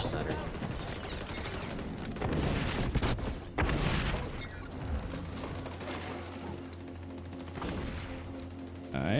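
A grenade explosion and bursts of gunfire in the shooter game XDefiant, with sharp shots and a heavy blast amid dense, continuous battle noise, and players talking over the action.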